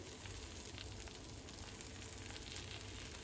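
A ragi dosa sizzles quietly in oil on a hot pan, a steady soft crackling hiss with a faint high whine in the background.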